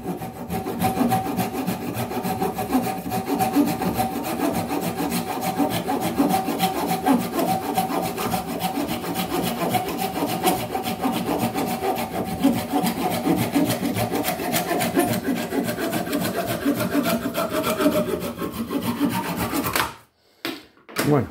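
An Opinel No.12 or No.18 folding saw cuts through wood with steady, fast rasping back-and-forth strokes, loud and close, running continuously before stopping abruptly near the end.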